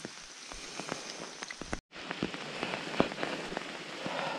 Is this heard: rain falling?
yes